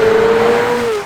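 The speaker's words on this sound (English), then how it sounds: "Underneath here, you have a 4-litre V8 twin-turbo engine, kicks out 789 horsepower and 590 pounds-feet of torque." The 4-litre twin-turbo V8 of a 2019 McLaren Senna screams loud and close in one sustained high-pitched note that dips slightly as it fades, with no talking.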